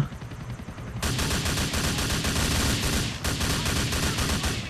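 Rapid automatic gunfire in GTA IV, dense sustained bursts with a brief pause before firing resumes, loud and close with no speech.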